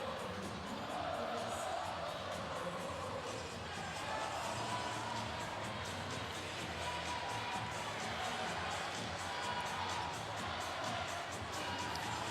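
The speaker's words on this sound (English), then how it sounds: "Great crowd for both Norris and Skutt here tonight." Steady cheering and whooping from a large arena crowd at the Nebraska Class B state volleyball final, Skutt Catholic versus Norris, roll on as a dense, continuous wall of noise with scattered voices poking through.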